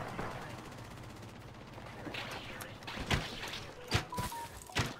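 Video game firefight with gunfire aimed at the enemy team, a few sharp shots standing out toward the end over a busy mix of game noise and talking.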